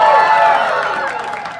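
An audience at a ranch gunfight show at the Flying J Ranch in Ruidoso, New Mexico, cheers and whoops loudly as one sustained, dense roar that eases slightly toward the end.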